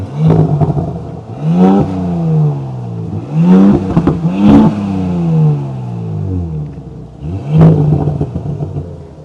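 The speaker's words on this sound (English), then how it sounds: "let's go ahead and take a listen because it does have an active exhaust" A 2026 Audi S5 with an active quad exhaust is revved repeatedly, loud engine sweeps rising and falling in several bursts, close and clear, with a deep throaty rumble between blips.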